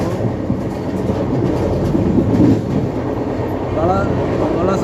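The Udaipur–Bandra superfast express (train 22902) running toward Borivali, heard from onboard as a loud continuous rumble with rhythmic wheel clatter and faint squeals, while someone talks over it.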